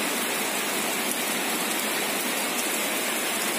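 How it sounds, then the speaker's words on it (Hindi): Heavy morning rain pours down steadily at a training academy in Mussoorie, Uttarakhand, a dense, continuous hiss with no pauses, close and fairly loud. "आज बारिश का कुछ गौर रूप देखने को मिल रहा है और लग रहा है कि कुछ ज़्यादा देर तक चलने वाली है बारिश"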